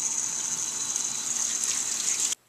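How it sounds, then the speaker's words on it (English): Running tap water pours in a steady, close rush while mushrooms are rinsed under it, then stops abruptly at the end. "While you're rinsing your mushrooms, don't worry about that old myth about getting them waterlogged from all the running water"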